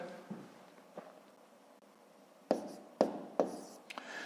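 A pen writing numbers on paper during a column multiplication, a few soft scratches followed by three sharper taps and strokes, close and quiet, with no talk.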